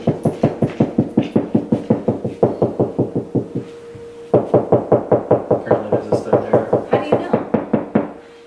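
Knuckles knock on an interior wall while checking for a stud, giving a steady series of sharp, close taps with a short pause midway.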